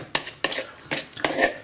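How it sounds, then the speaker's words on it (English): Food gets mixed in a bowl with a utensil, giving a few quick scraping clinks and knocks in an uneven rhythm, close and fairly loud. "So now we're gonna give this a good mix."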